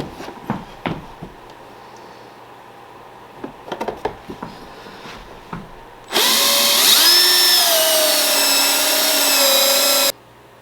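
A power drill bores a 1 1/4 inch hole for a large mobile solar battery pack. Scattered handling knocks come first, then a loud steady whine runs about four seconds with its pitch wavering under load before stopping abruptly.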